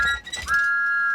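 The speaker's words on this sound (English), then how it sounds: "Thomas was so excited, he blew his whistle louder than ever" Thomas the Tank Engine sounds his steam whistle loudly, a brief broken toot followed by a long, sustained piercing blast that holds steadily to the end.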